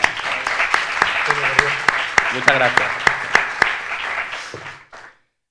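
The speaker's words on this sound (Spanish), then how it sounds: "Un, un aplauso, por favor, para la..." Audience applause closes a talk at a flamenco festival conference: a quick run of rhythmic claps from a modest crowd while someone speaks briefly over it, the clapping fading out near the end.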